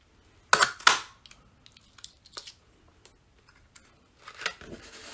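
A Scalloped Tag Topper paper punch punching through cardstock: two sharp crunching clicks close together, then faint paper rustles and small handling taps, and a final shuffling scrape near the end.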